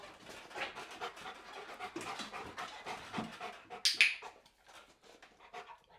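A dog pants in quick, rhythmic breaths up close during a training session on a rickety table. A brief sharp, high click or snap cuts in partway through, and no one speaks.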